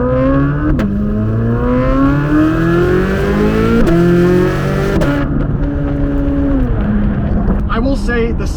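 Corvette C8 Z06 accelerating hard, its engine note climbing through rising revs with several sharp upshifts, loud and close, the roar dropping briefly at each gear change before pulling again.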